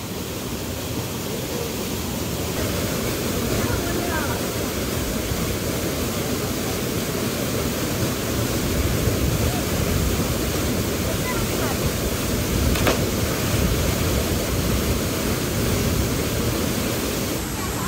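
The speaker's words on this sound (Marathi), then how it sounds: "तर हा आहे चांदेरचा धबधबा। मस्त पाऊस पण आहे आणि छान धबधब्याला पण पाणी आहे." Chander waterfall at Masure in the Konkan roars in the rain, a loud, steady broadband rush of falling water that continues without a break and drowns out everything else.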